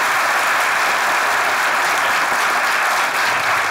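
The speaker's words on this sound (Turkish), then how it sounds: "Alkışlar Hacı'ya gelsin." Loud, dense studio audience applause fills the stretch, a continuous close roar of many hands clapping at an even level with no voices on top, for a guest on a Turkish comedy show.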